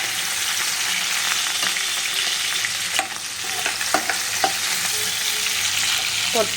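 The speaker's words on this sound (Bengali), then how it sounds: "এই ভাজা মাংসের যে তেলটা ছিল তারপরে মাংস মশলাগুলো ভেজে নিয়েছি" Meat and spices fry in leftover meat-frying oil in a wok over a flame, a constant moderate sizzle broken by scattered spatula clicks and scrapes.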